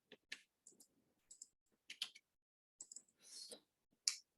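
Computer keyboard being typed on during accounting software entry, sparse irregular clicks and clacks in short clusters, close and quiet with silence between bursts.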